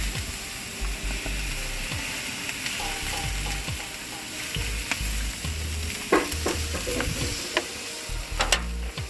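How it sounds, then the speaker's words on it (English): Steady sizzling of jerk chicken on a grill as beer is sprinkled over it, a loud continuous hiss with a few sharp clicks and knocks toward the end. "Next we're gonna just sprinkle with some beer"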